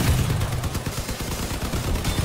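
Vehicle-mounted weapons firing in the Crossout vehicle combat game, a dense, continuous barrage of rapid gunshots and heavy thuds, loud and close, with no speech over it.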